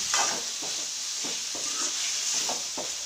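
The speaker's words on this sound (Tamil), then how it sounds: "தக்காளி நல்லா வதங்கட்டும்" Tomatoes and beetroot greens sauté in a pan, giving a soft continuous sizzling hiss with a few gentle stirring scrapes spaced through it.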